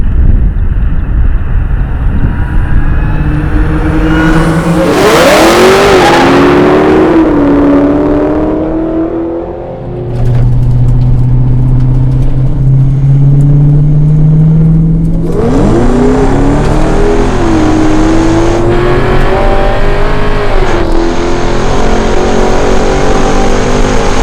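A 1000-horsepower Dodge Challenger Hellcat Redeye and a stock 2021 Hellcat Super Stock drag race on an unprepped street surface, engines roaring loudly through rising gear pulls with a brief lull before another hard acceleration.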